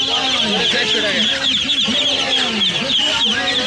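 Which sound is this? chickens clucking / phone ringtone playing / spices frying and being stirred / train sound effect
chickens clucking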